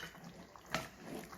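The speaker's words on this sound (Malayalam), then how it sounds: "ഞാനിവിടെ 2 കപ്പ് തിളച്ച വെള്ളം ഒഴിച്ചു കൊടുക്കണം" Two cups of boiling water are poured into a cooking pot, making a short, faint, close splashing gush that peaks briefly before settling.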